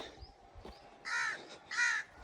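A crow caws twice, loud and close, harsh calls standing out against quiet village outdoor background.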